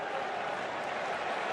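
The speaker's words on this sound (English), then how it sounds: "the crowd here in Bloomington serenading their Hoosiers after an impressive first 2 quarters" Stadium crowd in Bloomington cheering and singing for the Indiana Hoosiers at a college football game against Illinois, a steady dense roar of many voices that holds evenly throughout, heard from a distance.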